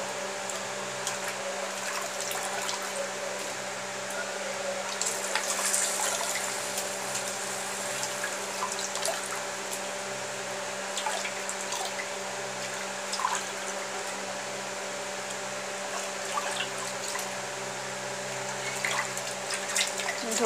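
Beef from a Qurbani Eid cow being washed under a running kitchen tap, a steady continuous gush and splash of water into a sink with no talk, holding an even level throughout.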